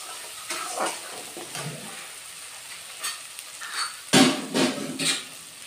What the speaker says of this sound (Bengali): এখন কাঁঠালটা আর আলুটা দিয়ে দিব।